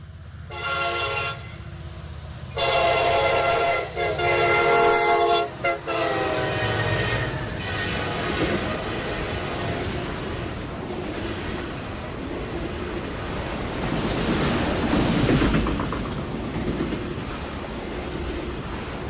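Train 197 from Detroit to Cincinnati charges through Ossian, led by a CSX SD60I, a former Conrail locomotive, sounding several loud horn blasts before a long, rushing roar of cars and clattering wheels passing close by.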